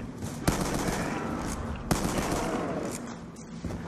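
Video game gun firing in a sustained rapid stream of close shots, with a couple of sharper louder reports standing out over the dense rattle.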